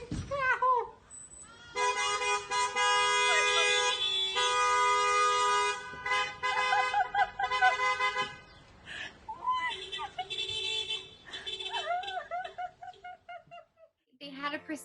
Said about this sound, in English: They had a procession outside of my house with my students in their cars, and they went by honking.